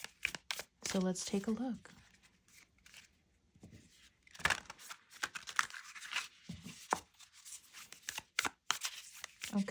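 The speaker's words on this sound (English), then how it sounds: "I am going to just pull some oracle cards here" Oracle cards being shuffled and pulled, a run of quick crisp riffling and slapping bursts between stretches of someone talking, fairly close and moderate in level.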